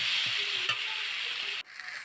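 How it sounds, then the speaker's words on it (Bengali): Chili powder goes into a spice mix frying in a pan with Bengali fish and taro curry cooking, a steady close sizzle with a few soft stirring scrapes that cuts off sharply near the end. "এর মধ্যে আমি দেবো এক চামচ লঙ্কার গুঁড়ো"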